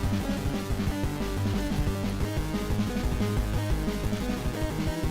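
Boss 3 battle music from the video game Alwa's Legacy, a looping chiptune-style track with a pulsing rhythmic bass pattern and busy upper melody, steady and moderately quiet with no talk.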